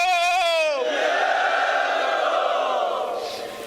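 A single voice shouts a slogan call, then a large rally crowd roars back in unison, loud and sustained, at a Bilawal Bhutto Zardari public rally.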